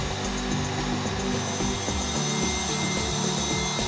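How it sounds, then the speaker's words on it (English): Rotary tool grinding and carving rose petals inside a block of acrylic, a steady close whirring buzz with a scraping, rubbing edge that persists throughout. "This tool allows me to make the rose petals and all sorts of seemingly impossible cuts"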